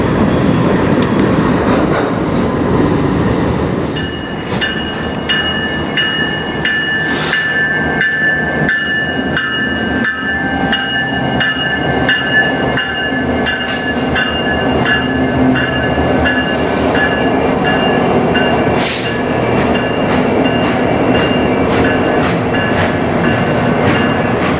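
CN freight train M382 rolls past close by in Sarnia, Ontario, with loud continuous rumbling, rhythmic clickety-clack of wheels over rail joints and occasional squeals, steady throughout without any voices.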